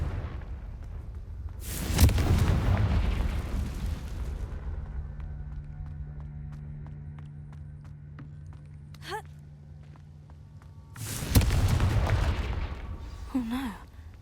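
A Confringo blasting curse from the game Hogwarts Legacy detonates twice, each a loud broadband boom with a long rumbling tail, separated by about nine seconds of low ambient hum and faint tonal effects.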